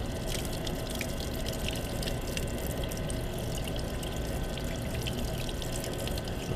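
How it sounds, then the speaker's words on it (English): Steady running water rinses a developed printed circuit board, a continuous broadband splashing and pouring sound that stays even throughout, close and fairly loud with no speech. "I'm gonna pull it out of the developer and rinse it in water real quick."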